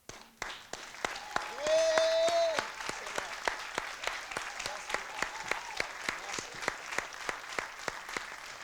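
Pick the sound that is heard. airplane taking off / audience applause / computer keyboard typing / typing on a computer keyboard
audience applause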